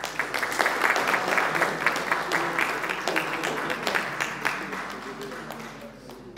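A crowd claps at a council meeting and oratory competition, sustained applause with crisp individual claps standing out, steady at first and then gradually tapering off.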